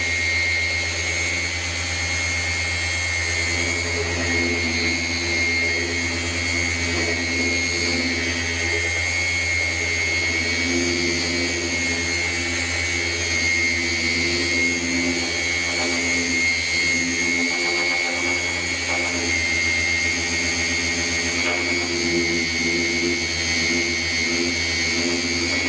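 A Flex PXE 80 10.8 V cordless brushless polisher whirs continuously at close range, a steady high-pitched motor hum that holds level throughout.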